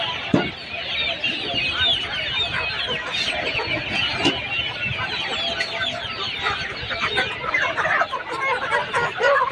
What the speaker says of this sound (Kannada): ಯಾವ ಚೀನಿ ಕೋಳಿ ಚೀನಿ ಕೋಳಿ